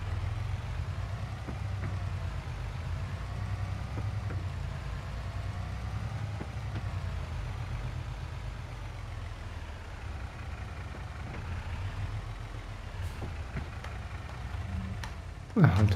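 Steady low engine idle from a tractor or farm machine in Farming Simulator 22, a continuous droning hum held at an even level throughout, with a brief louder click near the end.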